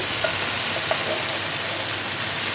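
Note greens sautéed in a pan, a steady close hiss of frying with faint scraping as the leaves are stirred, continuous throughout with no talking.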